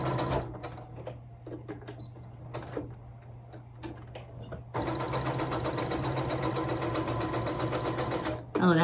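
A sewing machine stitches over quilt seams, first in short halting bursts with pauses, then running steadily and loud near the end, with a steady low hum throughout.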